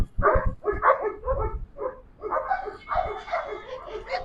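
A protection-trained dog, German Shepherd or Rottweiler, barks in a close series of loud, sharp barks, some yipping and whiny, coming in rapid bursts with brief pauses.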